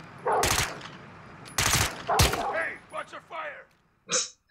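Gunfire from Modern Warfare 2 played on PS4: a few loud, broadband bursts of shots in quick succession, with a voice talking between and after them.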